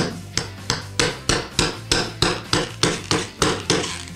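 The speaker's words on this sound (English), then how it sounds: "So let's try to hammer it in into this block." A liquid-nitrogen-frozen rubber nail, stiff rather than bendy, is hammered into a block: about a dozen sharp, evenly spaced hammer blows, loud and close, with no talk.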